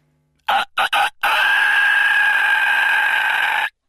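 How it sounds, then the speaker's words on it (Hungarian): A rooster crows loudly and close by, opening with three short bursts before one long, sustained cock-a-doodle-doo call. "A kakas ekkor még egyet kukorékolt"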